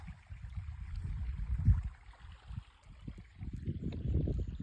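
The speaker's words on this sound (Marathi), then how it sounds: "मी मोटार लावली तर चालू आहे पाणी वलनी" A motor pump runs in a farm field, pushing irrigation water. Its low, steady rumble carries a gurgling, splashing flow that swells and eases across the clip, with no voices.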